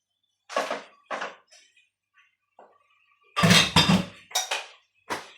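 Metal spatula scraping and clinking in a pan as tofu is added to sautéed onion with oyster sauce and stirred, heard as several distinct close bursts separated by near silence.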